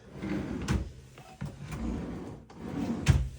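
A drawer in a tiny house cabinet slides open and shut, making a few soft wooden knocks and scrapes spaced out over a quiet room, with the loudest bump near the end.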